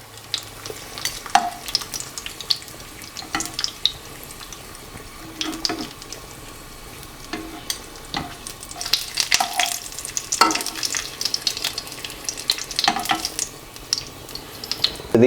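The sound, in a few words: pumpkin ricotta gnudi frying in sage oil in pan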